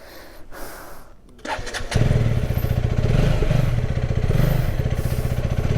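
A KTM Adventure motorcycle starts up: a brief starter crank, then the engine catches and settles into a loud, close, steady throbbing idle with rapid regular pulses.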